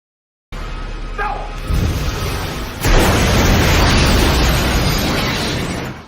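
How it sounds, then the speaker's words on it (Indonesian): A loud explosion erupts with a sharp blast, then a sustained roaring rumble that fills the space and slowly fades. "Peter di sini sudah siap dengan sepuntung rokok di tangannya yang langsung meledakkan ruangan tersebut"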